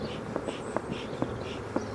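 Honeybees hum steadily around an open WBC hive during an inspection, a close, continuous insect drone with soft thuds and handling knocks from the frames scattered throughout.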